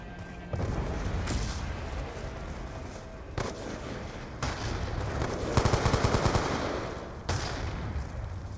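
AK rifle fire in a team deathmatch video game, with repeated loud bursts of automatic gunfire and a rapid rattle of shots amid in-game effects.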